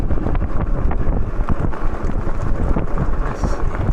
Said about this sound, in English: Oh, that wind feels good.